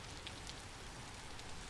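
Steady rain falling in the survival game Vintage Story, a continuous soft hiss of drops on surfaces at low level with no other sounds.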